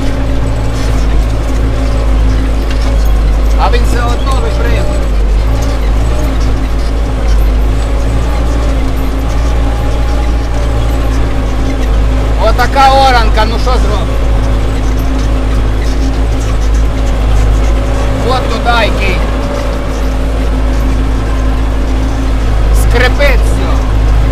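An MTZ 892 tractor pulls a Bomet plough through heavy ground, its engine droning steadily and loud at close range throughout, with someone talking over it at times.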